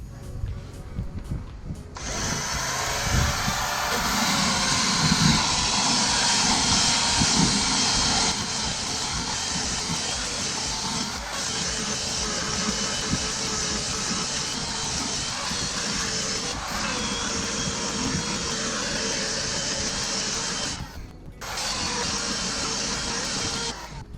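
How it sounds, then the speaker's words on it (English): A belt sander grinds down the edge of a plywood piece in a boat workshop, giving a loud, steady, close abrasive roar that runs almost continuously, with only a brief dip near the end. "I'm going to go at it with a belt sander because it takes off less material."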